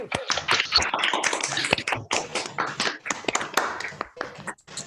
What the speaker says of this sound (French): Donc on branche les micros pour 10 secondes et on applaudit